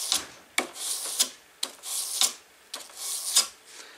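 A knife blade is hand sanded with 600 grit sandpaper on a hard backing, giving rhythmic rasping back-and-forth strokes about every half second, close and fairly quiet with no talking.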